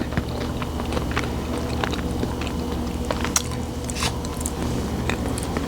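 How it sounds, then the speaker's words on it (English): Close, crunchy chewing of slightly crunchy fried fresh corn with scattered crisp bites over a low steady background hum, no talking. "Corn is still a little crunchy."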